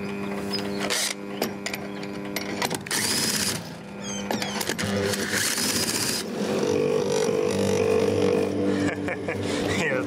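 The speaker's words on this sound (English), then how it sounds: "Yeah, bloody joy to start your dishwasher up" Motor of a 1981 Brandt dishwasher starting and running, a loud close mechanical whir with rattling and humming tones that shifts pitch and then settles into a steady drone, with someone talking over it.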